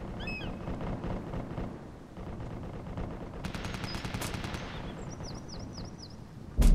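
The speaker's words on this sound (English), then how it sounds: "Good effect on target with mortars." Mortar rounds launch and slam into their target amid a war-game battlefield in Flashpoint: Dragon Rising, a dense rumbling barrage laced with rapid crackling bursts and a heavy, close blast at the very end.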